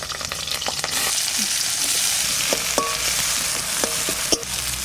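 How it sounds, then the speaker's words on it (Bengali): Green chillies and onion frying in oil for a Bengali rohu fish posto dish, a steady loud sizzle throughout with occasional stirring scrapes and pops, no talking. "রুই পোস্তর তেল দিয়ে দিচ্ছি দুটো তিনটে কাঁচা লঙ্কা দিয়ে দিলাম আর দেবো পেঁয়াজ"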